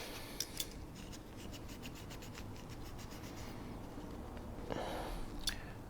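A brush and cleaning patch scrub inside a Colt Model 1903 Pocket Hammerless pistol, giving soft, continuous rubbing and rasping strokes at close range, quiet throughout with a few slightly brighter scrapes.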